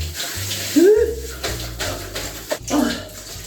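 Tap water runs for a cold rinse after shaving in a home bathroom, splashing in uneven bursts, with voice-like sounds and other noises mixed in.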